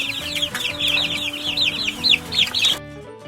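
A chick peeps rapidly and continuously in high, bright chirps over a soft musical backing, close and steady, before cutting off near the end.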